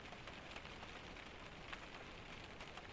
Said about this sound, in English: You can still hear the rain